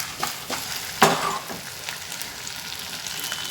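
Pumpkin curry is tossed by shaking an old-style clay pot instead of using a ladle, with a steady close sizzle, a few light knocks and one heavier jolt of the pot early on.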